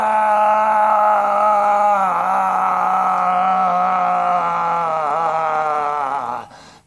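A voice imitates a sudden shriek, a loud, strained, wavering high cry held for about six seconds and cutting off at the end, with no other talk.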